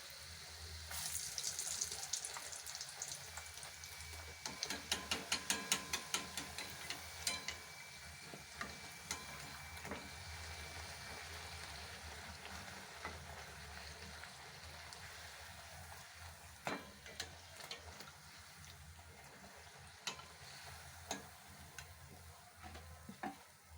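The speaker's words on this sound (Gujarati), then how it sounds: "હવે આપણે એને તળેલી, મેં તેલ પહેલેથી જ મૂકી દીધું છે કઢાઈમાં." Bhature frying in hot oil in a kadai: a steady, fairly quiet sizzle with crackling bursts early on that ease into a calmer bubbling hiss, with occasional sharp pops and stirring clicks.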